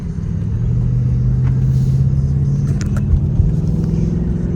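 New Ford S650 Mustang on the road, a loud steady engine rumble and tyre drone from inside the car, rising slightly as it pulls along, with no talking.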